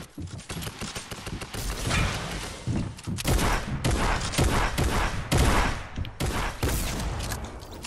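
Rapid bursts of gunfire from the Fortnite video game, loud and close, in quick overlapping volleys with short pauses between clusters of shots over about eight seconds.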